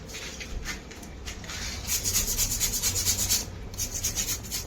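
Old bricks scrubbed with a brush, a steady loud rubbing and scraping that carries on throughout in quick repeated strokes, close to the listener, with no voices.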